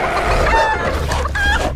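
A toy chicken clucks in the Red One film scene, a run of squeaky, bird-like calls over a steady bed of background noise, close and fairly loud throughout.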